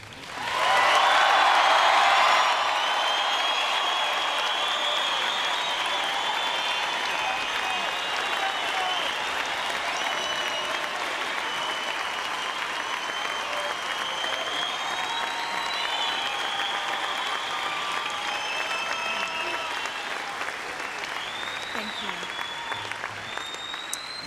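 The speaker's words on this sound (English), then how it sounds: "Before we stop applauding, let's give him the loudest, warmest welcome that he has ever received in this presidency." An audience at a University of Nebraska speech applauds and cheers President Clinton, a loud surge of clapping and whoops at the start settling into sustained, even applause that carries on for the whole stretch.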